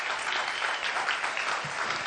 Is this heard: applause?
yes